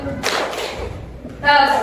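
A classroom clapping game: a few sharp hand claps burst out, then a child's or teacher's voice carries on over the noisy room.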